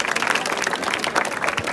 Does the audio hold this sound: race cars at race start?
no